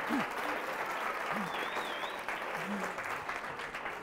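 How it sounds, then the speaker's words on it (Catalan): Continuous audience applause on the Catalan TV word quiz show Pica Lletres, a dense, even wash of clapping throughout with a few brief voices and a faint whistle over it. "Et volem aplaudir."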